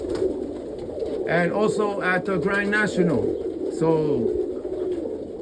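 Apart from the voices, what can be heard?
roller pigeons cooing in loft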